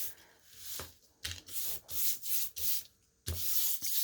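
A paint brush loaded with wax rubs in repeated strokes over faux barn wood made from foam core, giving close scratchy swishes in bursts with short pauses between them.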